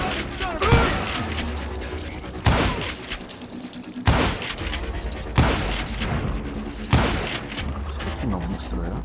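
Gunfire in the Western shooter Call of Juarez: Gunslinger, with repeated loud shots roughly every second or two ringing out over a busy backdrop of game sounds and a talking voice.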